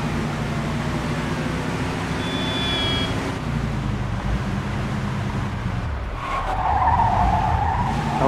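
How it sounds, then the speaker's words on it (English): A speeding car skids in the Mafia II video game, with a long tire squeal over a loud, steady engine roar and road noise, and a rougher scraping surge toward the end. "pursuit of a speeding vehicle."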